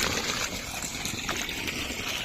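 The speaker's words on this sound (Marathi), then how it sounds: "इकडे पाणी यायला लागलं फटाफट बघा" Irrigation water rushing into a rice paddy during transplanting, a continuous close gushing and splashing flow with no pauses.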